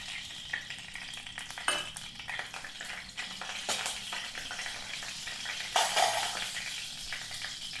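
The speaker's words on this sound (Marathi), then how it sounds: "आता आपण सारणासाठी थोडे तूप टाकणार आहोत." Ghee heats in a pan for misal stuffing, giving a steady low sizzle broken by occasional sharper clatters of a stirring spoon against the pan, close and moderately quiet.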